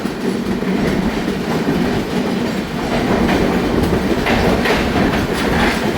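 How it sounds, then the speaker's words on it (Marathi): Mandovi Express running slowly on the Mumbai to Vaibhavwadi Road route, a continuous close rumble with rhythmic clickety-clack of wheels over rail joints and no voices. "ड्रायव्हरने ट्रेन देखील एकदम स्लो केली आहे"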